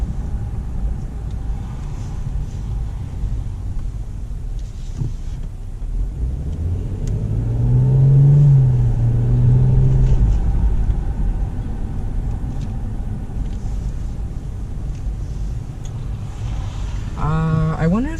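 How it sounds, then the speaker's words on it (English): A BMW 640i in Comfort Plus mode produces a steady, fairly loud exhaust and engine rumble from inside the car, swelling briefly in the middle and settling back to an even drone. "the exhaust note gets sharper when you put it into different modes, because right now it's still pretty loud in Comfort Plus"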